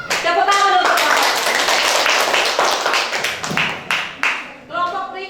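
A classroom group gets a burst of hand clapping from students, close and loud, tapering into scattered claps with voices of teacher and pupils around it.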